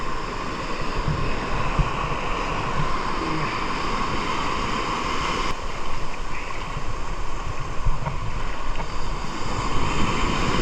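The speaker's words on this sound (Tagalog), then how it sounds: "malakas na alon dito guys" Strong waves churn and wash against the rocks at a deep swimming pool spot in Cabungauan, Pangasinan, making a loud, continuous roar that is buffeted by wind noise.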